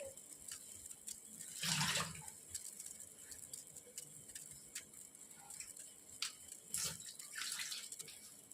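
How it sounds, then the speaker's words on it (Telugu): Cut amaranth leaves are washed in water, with quiet splashing and dripping, small ticking clinks and two louder sloshing bursts set against a low background. "తోటకూర అంతా కట్ చేసుకున్నాను కాబట్టి వాటర్లో వేసేసుకుంటాను"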